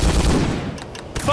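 Short burst of gunfire in the World War II squad shooter Hidden & Dangerous 2, rapid shots close by with a dense rumbling tail over about a second.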